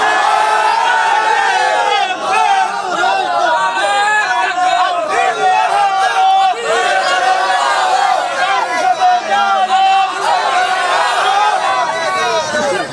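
A large crowd at an Islamic sermon gathering in Feni chants slogans together with hands raised, producing a loud, continuous surge of massed voices in rhythmic cries.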